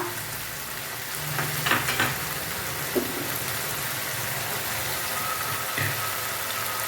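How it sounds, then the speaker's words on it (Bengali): Spices frying in a pan for chicken bhuna, with green and red chilli paste, give a steady soft sizzle and a few brief clinks and scrapes of stirring, close and moderate in level with no talking. "দিয়ে আমি মশলাগুলোকে এবার ভেজে নেব।"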